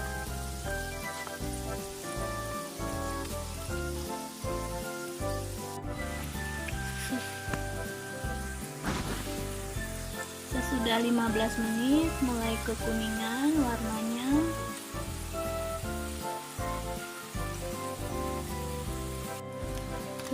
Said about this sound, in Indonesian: Kita teruskan menggoreng dengan api sedang.